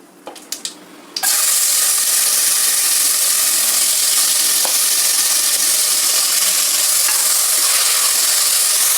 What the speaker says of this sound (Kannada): ಇದು ಇವಾಗ ಫ್ರೈ ಆಗ್ತಾ ಇದೆ